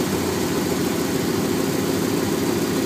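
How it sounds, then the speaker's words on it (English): A V8 engine running on gasoline fumes gives off a steady, loud low buzzing drone that holds unchanged and continuous throughout, with no talk heard. "you might be able to hear the engine change just the buzz."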